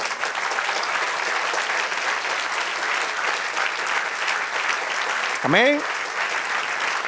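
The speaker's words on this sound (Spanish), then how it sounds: "Den un aplauso al Señor." A church congregation applauds during a sermon, steady dense clapping throughout, with a single voice calling out near the end over the applause.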